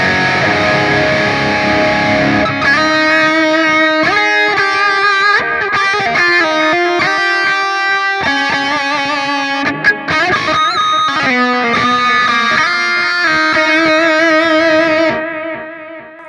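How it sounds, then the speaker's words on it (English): Electric guitar on a Hotone Ampero, running through a tube echo effect at about 450 ms, plays loud sustained distorted notes and chords with trailing repeats for roughly fifteen seconds, then decays at the end. No one speaks. "So I am going to go to the tube echo."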